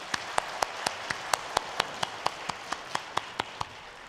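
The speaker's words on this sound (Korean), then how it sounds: "하나님께 영광의 박수 올려드리겠습니다." A congregation at a Sunday church service responds with slow, evenly spaced rhythmic clapping, about sixteen sharp claps in unison ringing out in a quiet room with no talking.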